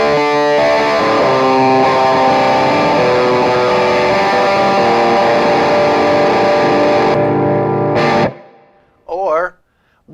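Electric guitar through the orange channel of a Wampler Pinnacle Deluxe pedal with the boost engaged, a thick, saturated distorted riff played continuously and loud for about eight seconds before cutting out into a brief pause and a short noisy burst.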